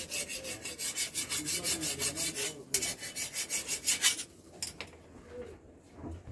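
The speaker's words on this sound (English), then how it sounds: "If not, I continue sharpening." A blade for cutting firewood being sharpened with steady back-and-forth rasping strokes, a rhythmic filing scrape repeated for several seconds, pausing briefly, then a few more strokes before it trails off, close and alone.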